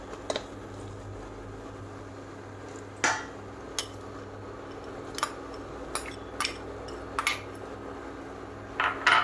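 Jaggery goes into a pan used earlier for frying while gond ladoos are being made, with sharp metallic clatters and clinks of utensils scattered irregularly over a low steady hum.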